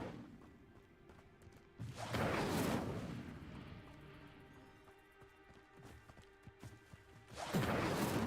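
Incendio fire spell cast in Hogwarts Legacy, two loud bursty whooshes at start-middle and end, each erupting into a crackling blast against a quieter game ambience.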